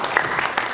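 A brief burst of audience applause welcoming a mentor at a youth employment mentoring concert, a short even patter of many hands with no pause.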